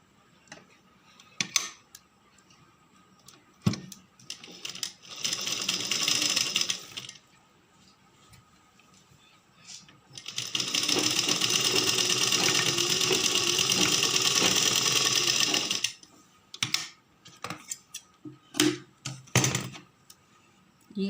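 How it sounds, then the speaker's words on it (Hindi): A sewing machine stitching small cloth scraps into a face mask: two stretches of steady, buzzing mechanical stitching, the later one longer and louder, separated by clicks, fabric handling and quiet pauses. "यहाँ से इसमें भी इसी तरह से लगा लेंगे हम सिलाई।"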